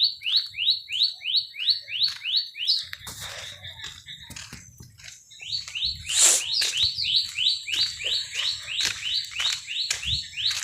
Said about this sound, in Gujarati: ત્યાં ચકલિયું મસ્ત બોલે છે અવાજ આવે